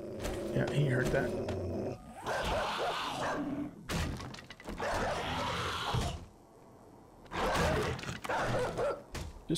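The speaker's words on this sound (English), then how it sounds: "Frickin' dog horde" Zombie dogs snarling and growling as a horde in the 7 Days to Die survival game, harsh bursts of growls and crashing noises in waves, with a player's voice talking throughout.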